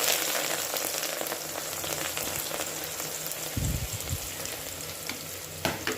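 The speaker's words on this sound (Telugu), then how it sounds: "బాగా ఎర్రగా వేయించుకోవాలి, పచ్చివాసన పోయిన దాకా." Mustard seeds, cumin, onions and curry leaves fry in hot oil, giving a steady crackling sizzle with stirring scrapes and a few louder knocks of a utensil against the pan.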